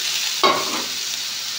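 Onion-tomato paste and spice mix, with a little salt and sugar, sizzling steadily as it is sautéed in a pan for a prawn curry, with a brief louder stir near the start and no talking.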